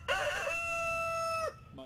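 A rooster crows once, close and clear, in a single long, sustained call that lasts about a second and a half and then stops abruptly.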